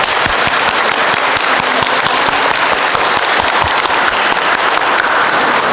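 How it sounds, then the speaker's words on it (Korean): A church congregation applauds during a Catholic Mass, dense sustained clapping from many hands filling the space, loud and even throughout. "다 함께 축하의 박수 부탁드리겠습니다."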